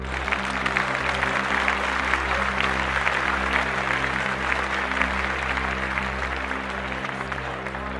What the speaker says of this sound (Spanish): Todos asintieron que sí con una ovación de entusiasmo